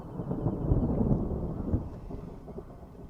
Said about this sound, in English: As the days pass, I see more storms approaching that will bring heavier rains.